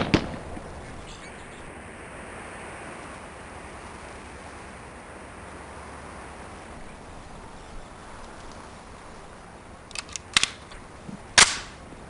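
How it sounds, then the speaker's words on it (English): Gunfire on a shooting range in the MS-DOS game Police Quest: SWAT: a few sharp shots near the end, two close together then a single, over a steady low hiss of background noise. "2 shots to center mass."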